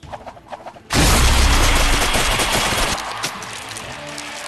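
Rapid burst of loud gunfire from the Bowmasters video game, a dense barrage starting abruptly after a second of quieter sound and continuing at full volume, easing slightly toward the end.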